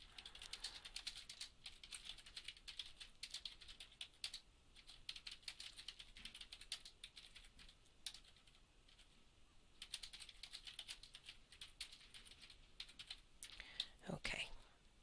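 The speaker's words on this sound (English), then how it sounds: "So I'm just going to type a couple of sentences about the course." Keys tapped on a computer keyboard while a couple of sentences are written in a browser-based word editor, a quiet, fairly close run of soft irregular clicks in short bursts with brief pauses.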